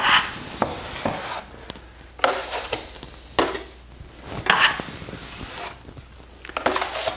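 A putty knife scrapes excess skim coat off a wall in a series of rough, rasping strokes about a second apart, close and moderately loud.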